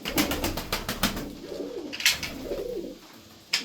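Tumbler pigeons, a mixed group of twelve, coo softly nearby in low, rolling calls, repeated a few times, with some light rustling and clicks around them.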